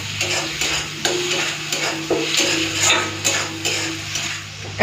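Tomato paste goes into garlic and ginger already fried in oil, sizzling steadily up close while a utensil stirs and scrapes the pan in repeated strokes. No one speaks.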